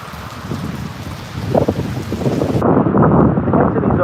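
Rain and gusting wind from a tropical storm in Tampa Bay, a steady broadband roar with wind buffeting the microphone that grows louder and heavier partway through, no voices.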